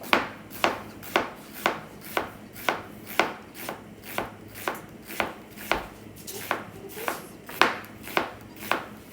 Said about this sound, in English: I want some very thin slices of onion